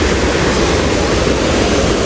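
Waterfall at Breadnut Valley, Jamaica: a loud, steady broadband roar of falling water, close by and unbroken, with no voices heard over it.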